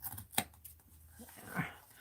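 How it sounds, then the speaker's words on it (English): Scissors snip through paper during mixed-media art journaling, a sharp single cut followed by a few faint, quiet snips and rustles, heard up close with no talking. "My other scissors."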